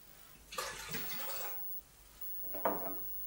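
Water poured into a stand mixer bowl for brioche dough, in two short splashing pours separated by a pause, the first longer and the second brief, faint and near.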